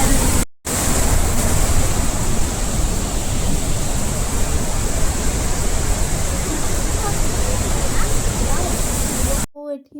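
Waterfall at Gundicha Ghai, a steady broadband roar of rushing water that holds loud and constant, broken only by a brief dropout near the start and a cut at the very end.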